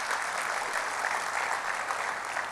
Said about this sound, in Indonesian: Ya, tepuk tangan sama Tuhan Yesus.